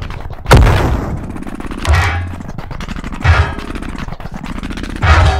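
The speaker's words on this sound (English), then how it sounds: "this is my game audio demo reel, featuring Unity's tanks" Tank battle effects from the Unity Tanks game: a loud cannon blast followed by several heavy booming impacts with rumbling low explosions and dense crackling debris, repeated roughly every one and a half seconds.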